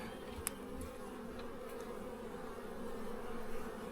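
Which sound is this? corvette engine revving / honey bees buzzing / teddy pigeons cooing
honey bees buzzing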